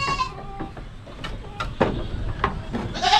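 Goats on a Filipino farm, including a mother with two kids, let out several short bleats near and far amid rustling and low background noise, with a louder cry at the end.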